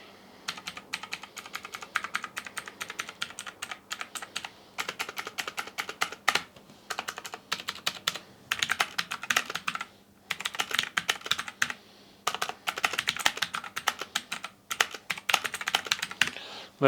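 Marvo KG934 TKL mechanical keyboard with blue switches being typed on in bursts of sharp, clicky keystrokes separated by short pauses, close and fairly quiet, with no talking.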